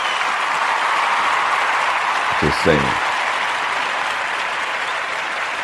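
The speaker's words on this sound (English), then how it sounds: "Another round of applause for King F.L.O." An audience gives King F.L.O. a round of applause, steady dense clapping at a live hip-hop event that runs throughout, with a brief spoken remark partway through over the claps.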